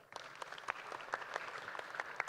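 Sparse, fairly faint audience clapping after a keynote speech, individual claps picked out at an irregular rhythm over a quiet room.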